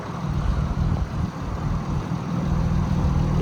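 A 2021 Porsche 718 Boxster GTS 4.0 idles with its sport exhaust, a deep, steady rumble at close range, low and throaty with a slight uneven burble, and no voices over it.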